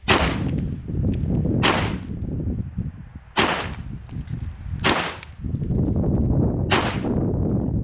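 A .50 caliber AEA Bintac T50 semi-auto air rifle, a 7000 PSI PCP, fires five sharp, loud cracks at roughly even intervals as the magazine is emptied, with a noisy outdoor background between the shots.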